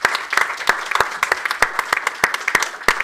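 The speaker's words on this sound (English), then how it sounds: "Perhaps a big round of applause for our people." A workshop audience gives a round of applause, close, crisp and steady clapping from a small crowd with distinct individual claps and no talk.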